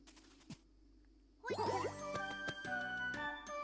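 A Nokia-style phone device in Pikmin 3 Deluxe gives off a bright, tinkling melodic jingle that begins after a short quiet stretch with one soft tap, then rings on clearly with repeated chime notes.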